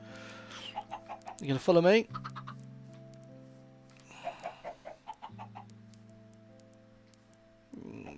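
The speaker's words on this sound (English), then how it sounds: "Okay, right, chickens." Chickens in a video game clucking in short bursts, with sheep bleating in the mix and a steady background music drone, while a person speaks briefly.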